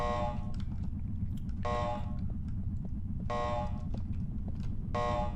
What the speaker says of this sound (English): That alarm horn is not my favorite sound in the game.